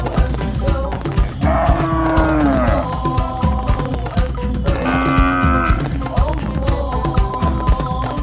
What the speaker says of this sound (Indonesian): ternyata sapi warna kuning